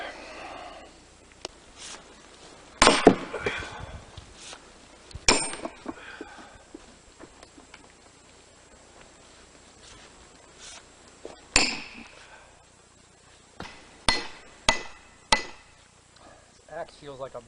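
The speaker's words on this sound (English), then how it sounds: "we're going to split some oak." A sledgehammer strikes oak firewood in a series of sharp, heavy cracks and clanks, spaced several seconds apart with quieter stretches and light handling noise between, close by.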